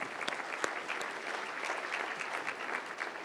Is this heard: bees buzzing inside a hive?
no